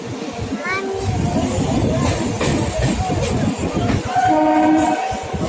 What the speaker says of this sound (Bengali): ট্রেনে করে যাচ্ছি